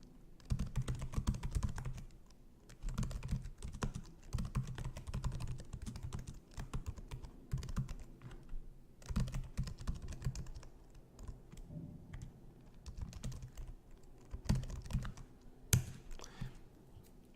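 Code being typed on a computer keyboard in irregular bursts of close, crisp key clicks with brief pauses between runs, no talking.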